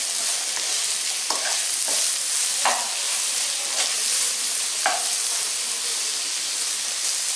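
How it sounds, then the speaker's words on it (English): Vegetables frying in a pan under a steady, close sizzle and hiss, with a few brief stirring scrapes of a utensil scattered through. "Now cooking these vegetables takes its own time"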